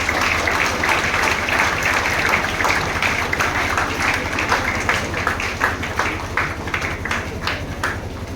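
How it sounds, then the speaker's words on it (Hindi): Audience applause rings out at a news event in Darbhanga, a dense, steady clatter of many hands clapping that holds loud for several seconds before thinning slightly toward the end. "Give a big round of applause for him."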